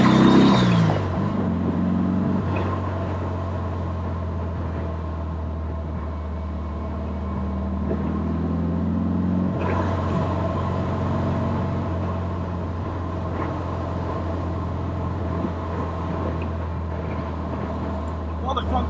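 A Porsche 356 Speedster, the early production sports car, drives along with its engine holding a steady drone, swelling slightly midway, while someone talks over the constant cabin noise.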